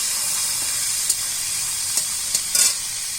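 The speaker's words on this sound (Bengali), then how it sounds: "এখন দিয়ে দিচ্ছি সুটকি সুটকিটা ভালো করে ভেজে নেব" Dried fish (shutki) sizzles steadily as it fries in a pan for a Bengali dish with taro stolons, a continuous close hiss broken by a few brief stirring scrapes near the end.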